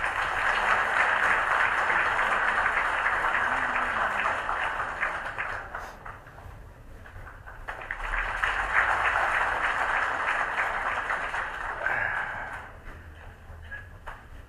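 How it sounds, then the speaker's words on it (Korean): A political talk-concert audience in Korea applauds to welcome a party leader to the stage, with two long waves of dense clapping and a short lull between them, heard from within the hall. "여러분 박수로 환영해 주십시오."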